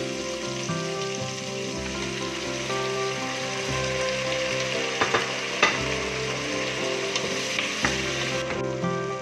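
Onion, garlic and tomato frying in a pan: steady close sizzling throughout, with occasional stirring scrapes and pops, no talking.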